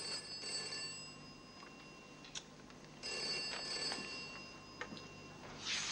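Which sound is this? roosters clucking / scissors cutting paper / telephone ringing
telephone ringing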